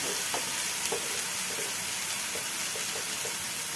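Mustard seeds frying in a pan with turmeric and salt, giving a steady close sizzle with faint stirring scrapes and no talk.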